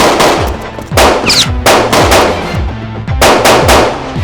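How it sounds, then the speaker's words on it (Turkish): Several guns firing at once in a police shootout, with loud rapid machine-gun bursts repeating and overlapping close by, broken by brief gaps. "Bana sıkıyorlar abi!"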